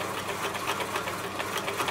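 An Elna L4 overlocker stitches through four layers of upholstery fabric with a fast, steady mechanical whir and rapid needle chatter, running continuously and close.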